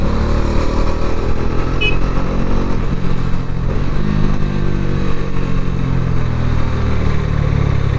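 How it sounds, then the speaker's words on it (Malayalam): A Bajaj Dominar 400 UG (BS7) motorcycle rumbles while being ridden, its exhaust a loud, steady, deep drone held throughout without speech. "ഈ ഒരു എക്സോസ്റ്റ് നോട്ട് കേട്ടോ"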